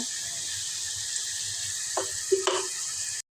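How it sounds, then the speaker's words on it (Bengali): Sliced onions frying in oil for a Bengali spicy baim fish curry, a steady close sizzle with a couple of brief stirring clinks near the end. "এখন আমি পেঁয়াজগুলো ভুনা করবো"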